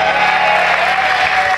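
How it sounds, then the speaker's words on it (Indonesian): Studio audience applauding both competing teams on a Family 100 game show, a dense, steady clatter of many clapping hands filling the short stretch alone. "Boleh tepuk tangan untuk kedua tim"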